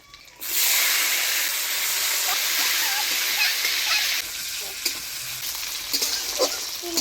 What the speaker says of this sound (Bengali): এবার ভিজিয়ে রাখা কাজু কিশমিশ দিয়ে দিচ্ছি।